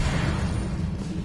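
A Confringo blast spell from the Hogwarts Legacy video game erupts as a dense, sustained roar of fiery energy with heavy low rumble, steady and loud for over a second with no voices.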